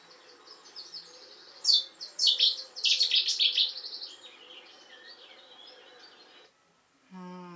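A Cetti's warbler sings a short burst of loud, high, rapid chirping notes, then trails off; a faint continuous hum sits underneath.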